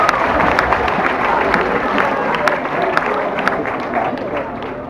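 A crowd at a stunt show at Holiday Park in 2014 applauds for Peter and Petra, dense and loud, a sustained wash of clapping with cheering mixed in and voices under it.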